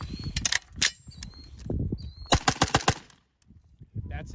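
A SIG MPX pistol caliber carbine in .45 ACP fires rapid bursts of loud, sharp shots outdoors into dirt, with short gaps between strings and voices talking over parts of it.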